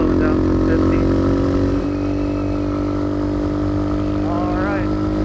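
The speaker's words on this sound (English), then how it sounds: "hopefully you can still hear me over that raucous exhaust going in the back there" A modded Gryffin 250 motorcycle's raucous exhaust drones steadily as the bike cruises around 50–60 mph, a loud continuous engine note with a rider's voice speaking over it.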